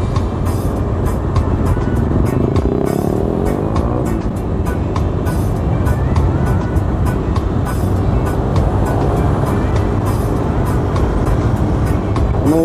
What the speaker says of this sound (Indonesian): Lalu lintas ramai lancar.